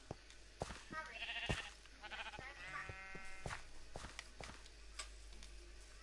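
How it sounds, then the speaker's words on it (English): Sheep bleating in the video game Minecraft, a few wavering bleats in the middle of the clip over soft pattering footsteps and faint game ambience. "Sheep."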